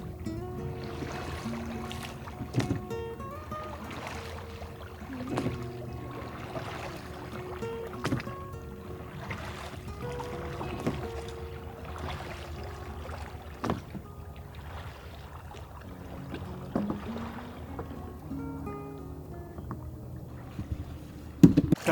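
A dinghy moves through water in a cut, with steady lapping and splashing and a few knocks now and then, heard alone without speech.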